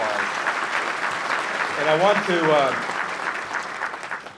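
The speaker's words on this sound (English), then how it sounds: "Give them all a round of applause" An audience at Suffolk's 2024 State of the City event applauds council members with dense, sustained clapping that swells near the middle, while a voice briefly speaks over it.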